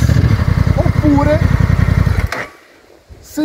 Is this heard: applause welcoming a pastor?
no